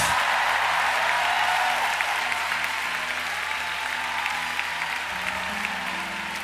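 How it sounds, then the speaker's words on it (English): An audience at a ballroom dance show in a Singapore church hall claps for a waltz couple, a dense, continuous wash of applause that stays loud and steady throughout with no voices on top. "Give them a big round of applause."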